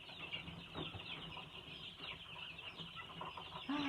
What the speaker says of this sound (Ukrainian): які мені прислали отих піщунів, які зараз тут піщать